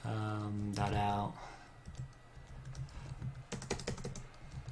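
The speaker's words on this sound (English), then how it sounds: "That way I don't have to keep typing this out." Typing on a computer keyboard while writing Java code, quick bursts of key clicks following a short stretch of speech.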